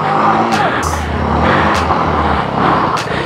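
A car engine revving hard on a dangerous off-road track at Rati Ghat while a bald tyre skids and spins. The loud engine drone rises and falls with bursts of tyre scrub, and a voice is heard briefly.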